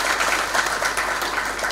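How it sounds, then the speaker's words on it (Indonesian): A crowd at a graduation ceremony in Indonesia claps steadily, a dense, even ovation that fills the hall throughout. "Tepuk tangan."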